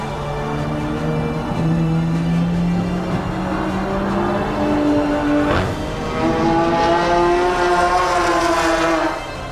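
Race cars lapping the track at Global Time Attack, engines droning and rising in pitch through gears, one car passing near and fading while another climbs up hard through revs, steady and loud with no talk.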